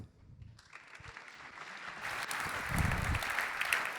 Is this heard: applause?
yes